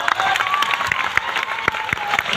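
Applause from a gathered crowd at a community religious event honouring the Goddess, with sharp individual claps standing out over a steady wash of clapping and faint cheering, close and lively throughout.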